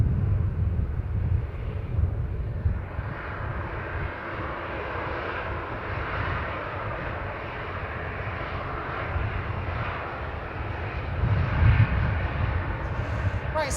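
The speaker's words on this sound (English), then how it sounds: "this TUI is going to Enfida. It's a Boeing 737-800, registration GTUKW." A TUI Boeing 737-800 at Manchester Airport roars steadily with a broad, sustained jet engine rumble that holds loud throughout and swells slightly near the end, with some wind buffeting.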